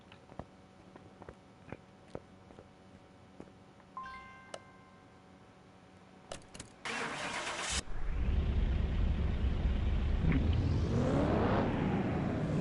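A car in Car Mechanic Simulator clicks a few times before the starter cranks, then the engine catches and roars up, settling into a loud, steady run that revs up and down.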